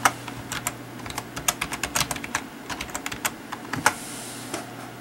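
A short burst of quick keystrokes on a computer keyboard types out a name, crisp close clicks in an uneven run over a faint steady hum.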